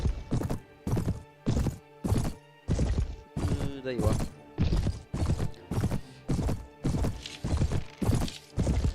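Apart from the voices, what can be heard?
horse galloping and neighing in the video game Mount and Blade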